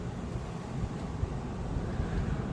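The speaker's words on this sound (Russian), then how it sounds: "Поднимается ветер, он еще за горами," Rising wind rushing steadily past the microphone, a broad low roar with gusty buffeting that swells slightly over a few seconds, with no voices.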